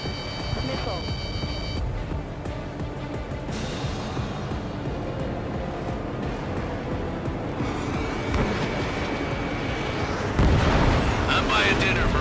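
Missile blasts and roaring jet noise fill an Ace Combat 7: Skies Unknown dogfight, heavy booms layered over a constant rumbling engine wash, with radio voices talking throughout.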